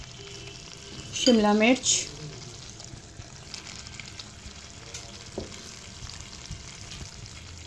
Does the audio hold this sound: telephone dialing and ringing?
no